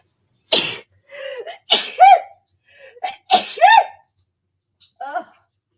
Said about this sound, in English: Oh, I'm going to sneeze, guys.